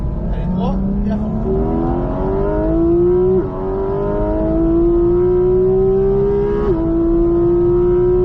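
A Porsche GT4 RS accelerates hard on a circuit, its engine note climbing steadily through the revs with a brief dip at a gear change before rising again. The engine is loud and close, with a voice talking over it at times.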